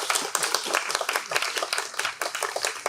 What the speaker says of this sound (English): So just a round of applause for the Urology Fellowship.